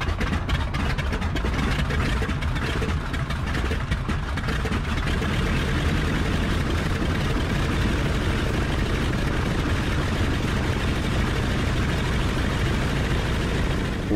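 Grumman Albatross radial engine of 1,425 horsepower running in a ground test, a steady loud rumbling drone that holds constant throughout with no talking.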